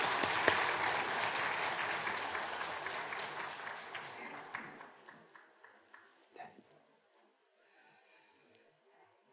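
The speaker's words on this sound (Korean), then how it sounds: "박수 부탁합니다" Congregation applauding at a Christmas church service right after an infant baptism, a dense burst of clapping that starts full and gradually thins out, dying away to scattered claps by the end.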